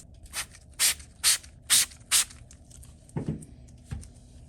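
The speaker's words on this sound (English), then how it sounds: "now we're gonna try the NV Care Clay Lube with the Q2M clay in this section right here." Four short, close hissing bursts of NV Care Clay Lube sprayed onto a Chevy Camaro SS panel, evenly spaced, followed by a couple of soft rubbing and handling noises.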